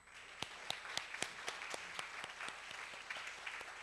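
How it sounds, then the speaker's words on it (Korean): Applause from a church congregation: many hands clapping steadily and evenly throughout, a full, moderately distant round with no talking over it. "박수 한번 하십시다."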